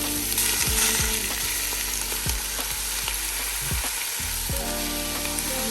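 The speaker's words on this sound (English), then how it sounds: "Cooking the outer portion of the chicken." Loud, steady sizzling of chicken frying in a pan with onion, with occasional scraping and stirring clatter, close up and with no talking.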